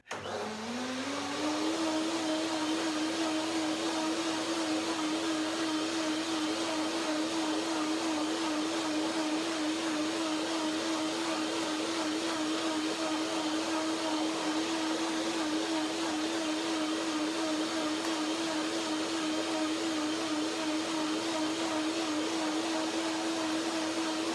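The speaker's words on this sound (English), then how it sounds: "So one more blending, and then I get there." A blender whirs steadily and loudly for the whole stretch, blending an avocado sesame dressing until creamy, its motor tone rising briefly at the start and then holding constant, with no talk.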